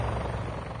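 A helicopter in a battle royale video game, its steady close rotor thrum and engine drone running continuously through the short stretch with no talk.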